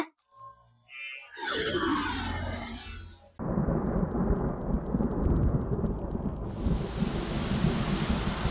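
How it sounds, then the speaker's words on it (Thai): A sudden rain shower with thunder: a rumbling roll of thunder builds, then a steady heavy downpour hisses loudly and continuously, with the rain swelling brighter toward the end. "จู่ๆทำไมฝนถึงตกลงมาได้"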